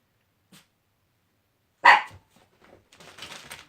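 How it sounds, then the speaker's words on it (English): A small dog yaps in a short sharp burst, followed by a few quieter yips and rustling, heard fairly close indoors without any talking. "The wind blows, she yaps."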